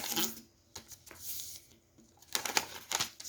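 Paper rustles and creases as a sheet is folded into a triangle while making a sunflower paper top, with soft crinkling bursts at the start and again near the end, close and fairly quiet.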